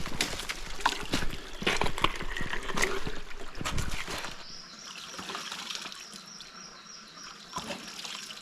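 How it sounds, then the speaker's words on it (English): Splashing and dripping of hands scooping stream water onto a face in an Australian rainforest, close and uneven for a few seconds, then fading to soft trickling and faint insect and bird sounds. "I think I might wash my face in this water down here."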